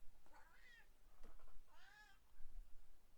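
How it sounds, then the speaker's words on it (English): A cat yowls loudly twice, drawn-out wavering meows with a short pause between them, heard fairly close over faint room noise. "My cat is hollering."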